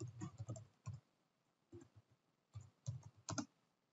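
Password entered on a computer keyboard during Ubuntu login in VirtualBox: several quick bursts of close, light key clicks separated by short pauses, no talking.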